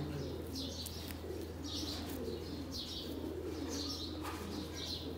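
Sialkoti pigeons kept by a fancier coo softly in repeated low phrases, with faint chirps and a soft flutter over a steady background hum, and no talking.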